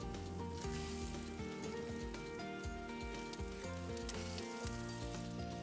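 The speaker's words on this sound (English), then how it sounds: "We're going to put our tuna steaks on." Ahi tuna steaks searing on a Big Green Egg grill give off a steady, soft hiss that runs throughout beneath louder background music.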